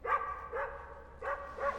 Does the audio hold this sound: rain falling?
no